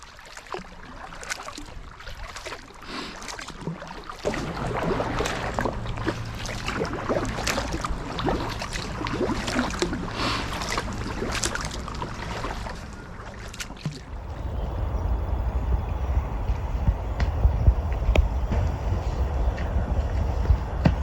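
A canoe is paddled along the Basingstoke Canal, with soft rhythmic paddle strokes and water splashes close by for most of the stretch, then giving way to louder, denser wind-like rushing near the end.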